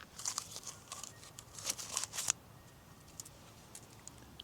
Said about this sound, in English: I'll record Teddy chewing on a leaf.